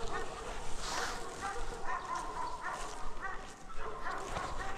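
A dog gives soft yips and whimpering barks outdoors, moderately near, amid noisy background rumble and a person speaking.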